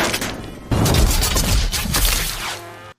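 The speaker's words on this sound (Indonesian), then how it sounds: "Satu hal yang paling menyulitkan adalah kabur dari tembakan senjata helikopter." Gunfire from a helicopter in an action movie erupts after a brief lull into a sustained loud burst of booming, crackling shots and impacts that lasts about two seconds before cutting off.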